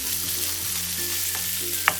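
Pork sizzling in a hot, oil-free pan over medium heat for kimchi fried rice, a steady broadband frying hiss with low hum underneath and a single sharp utensil tap near the end.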